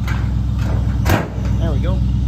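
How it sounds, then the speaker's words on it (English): The hood of a 1954 Chevrolet 3100 pickup slams shut in a single heavy, close thump midway through, with engine or background hum underneath and someone speaking briefly afterward. "Gotta get the darn hood shut."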